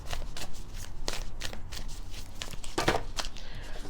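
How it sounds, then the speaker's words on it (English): A deck of oracle cards shuffled by hand, with steady riffling and flapping throughout and a sharper burst of card slaps near the end, close and alone with no voices. "Let me shuffle this a little bit off camera because it's hitting the camera"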